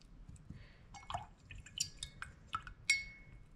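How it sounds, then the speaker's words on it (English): Watercolor paint flicked from a big brush onto paper, a scattered run of small wet taps and drips landing irregularly, close and fairly quiet against a soft background. "I'm gonna take a big brush and do some splattering."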